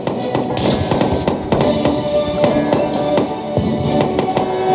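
Explosions of grenades in the tank game Total Tank Simulator, set in a Polish campaign battle at Gdańsk, come as a busy run of sharp cracks and bangs over continuous rumbling battle noise.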